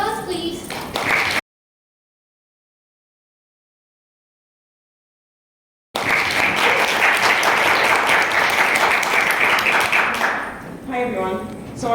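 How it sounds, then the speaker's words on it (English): Applause from an audience at a conference session on empowering children, filling several seconds after a silent gap, then fading as a speaker begins talking. "Give her an applause, please."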